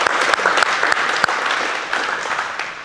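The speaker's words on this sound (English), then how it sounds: "give her a round of applause" Audience applause at an indoor man-to-man defence coaching clinic, steady clapping filling the space throughout with a few sharper individual claps standing out.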